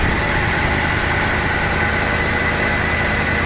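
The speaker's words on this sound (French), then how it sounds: "c'est un moteur assez discret, hein, fait pas beaucoup de bruit" The engine of a 1988 Dodge Ram D150 pickup idles steadily and close up, a dense, even rumble with slight vibration and no talk over it.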